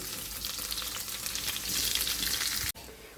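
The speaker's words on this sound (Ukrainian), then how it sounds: "Першим ділом відразу на цю сковорідку відправляю цибулю." Steady crackling sizzle of onions frying in a pan, continuous and close, cutting off abruptly near the end.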